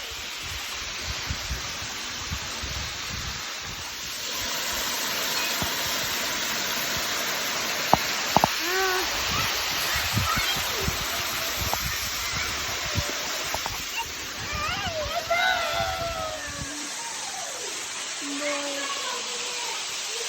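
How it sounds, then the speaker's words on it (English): A waterfall gives a broad, steady hiss through the clip beside an icy hiking path, with footsteps, rustling, brief knocks and a voice over the rushing water. "I see the waterfall."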